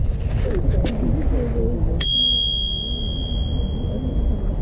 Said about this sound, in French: Petite sonnette.